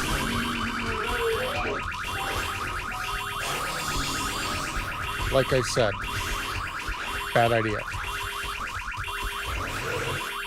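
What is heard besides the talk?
cop car alarm in video game 7 Days to Die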